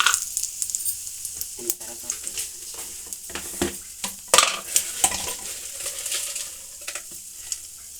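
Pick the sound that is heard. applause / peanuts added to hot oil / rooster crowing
peanuts added to hot oil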